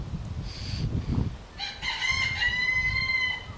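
A cockerel crows nearby in a full, harmonic-rich cock-a-doodle-doo, preceded by a shorter, fainter call, standing out clearly over low background rumble with no talking.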